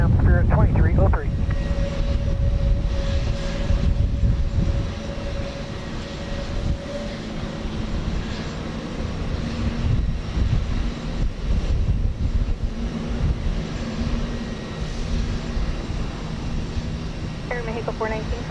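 A Spirit Airlines jet takes off from runway 15 right at Houston Intercontinental, a steady loud engine roar holding throughout with a sustained tonal whine, while a radio voice talks over it.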